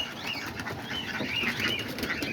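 Pigeons being fed outdoors, soft flapping wings and scattered bird sounds from a small flock nearby, moderately quiet and continuous, no talking.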